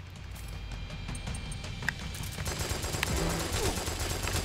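Assault rifle fire in Metal Gear Solid 4, a series of rapid shots that grows denser and louder toward the end, over a constant rumble of game ambience.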